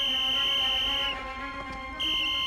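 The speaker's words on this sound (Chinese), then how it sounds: "老七，吹哨子，让兄弟们追。" A sharp, shrill whistle blown to order a pursuit, sounding in two long sustained blasts close by, separated by a short pause.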